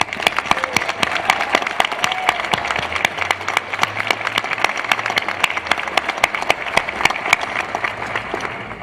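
Sustained applause from a large crowd at a law school commencement, dense steady clapping filling the whole stretch without letup.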